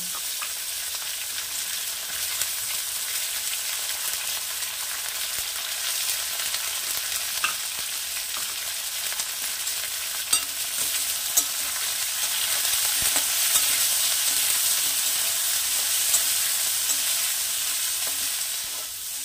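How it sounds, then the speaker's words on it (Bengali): Cut eggplant lightly frying in a small amount of oil for a Bengali bathua saag dish, a steady bright sizzle running throughout with a few soft stirring clicks, swelling slightly louder midway, no talking. "এবারে এর মধ্যে দিয়ে দেবো কেটে রাখা বেগুন। বেগুনটাও আমি হালকা ভেজে তুলে নেব।"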